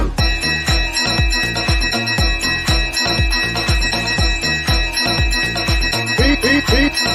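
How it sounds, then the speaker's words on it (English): A bell is rung over and over in a fast, steady rhythm. Each loud, close strike leaves bright ringing tones that carry into the next strike. "Ring the bell."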